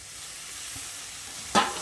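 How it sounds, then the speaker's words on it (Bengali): Boiled banana flower is dropped into a pan of frying potatoes: a low, even sizzle runs throughout, then a sudden louder burst of hissing comes near the end as the flower goes in. "এখন আমি এই মোচাটা এর মধ্যে দিয়ে দিচ্ছি।"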